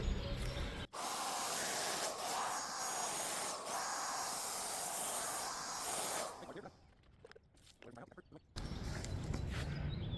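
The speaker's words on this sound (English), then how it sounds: "we're just gonna spray some water through it" An AMZwolf electric paint sprayer spraying clean water makes a steady, loud hissing spray for several seconds, briefly drops to quieter sputtering, then resumes at full hiss.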